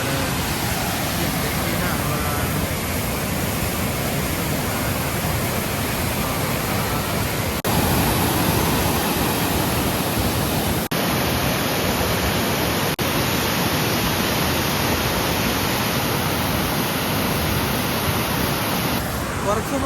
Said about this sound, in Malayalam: ഇതാണ് ഗൈസ് നമ്മൾ പറഞ്ഞ ആ വെള്ളച്ചാട്ടം